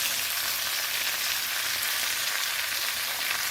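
Chicken pieces frying in a pan for chicken cacciatore, a dense, steady sizzle that stays even throughout, close and alone with no talk.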